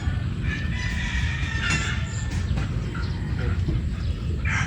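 Gray gamefowl brood stag rooster crowing amid a constant dense farmyard background noise, with the calls rising faintly over the steady din.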